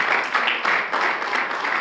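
Congregation clapping hard for the Lord during a Spanish-language church sermon, a dense, loud, slightly pulsing patter of many hands with no voices over it.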